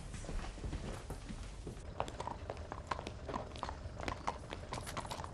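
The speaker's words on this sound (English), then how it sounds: "I shall have to ask you to remove your horse from my forecourt forthwith, madam." Horse hooves clip-clop at a walk across a forecourt, a series of irregular sharp knocks at moderate distance over low background rumble, with no talking.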